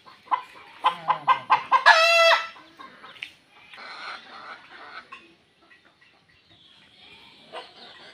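A rooster clucks in a quick series of sharp, loud calls, then lets out a full crow, followed by quieter scratchy rustling and faint background noise.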